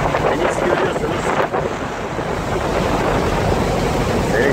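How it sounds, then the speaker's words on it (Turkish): Rough sea waves and strong wind in Istanbul, a dense, continuous rushing roar with heavy wind buffeting the microphone, loud and unbroken throughout. "Deniz şahlanmış."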